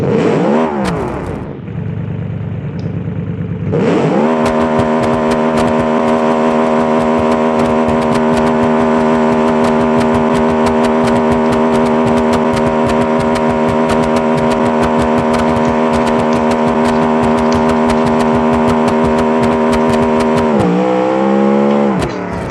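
A car engine in BeamNG revs hard and holds at a high, steady whine for a long stretch until it overheats, loud and close, then drops back down at the end.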